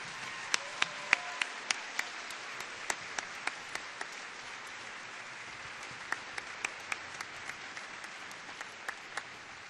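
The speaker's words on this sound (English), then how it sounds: "Let's give them one more round of applause." Audience applause at a 2008 Glendale student showcase meeting: a steady, sustained wash of many hands clapping, with sharper individual claps popping out above the crowd throughout.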